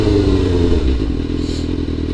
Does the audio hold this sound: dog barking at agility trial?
no